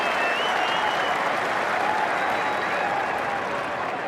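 A large cricket crowd at the WACA applauds steadily as Hussey nears his hundred in the Ashes, a dense, continuous wash of clapping that fills the whole stretch at loud volume.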